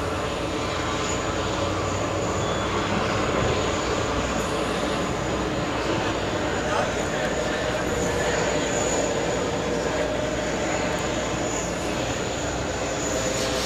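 Jet engines of an Emirates airliner roar steadily during pushback at JFK airport, a loud, continuous broad rumble with a high whine that holds throughout, while people talk faintly underneath.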